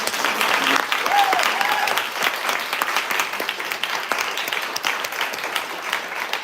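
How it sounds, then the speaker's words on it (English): An academic audience at a university thesis festival session gives a sustained round of applause, strong at first and gradually thinning out, with dense overlapping claps filling the room. "Another round of applause"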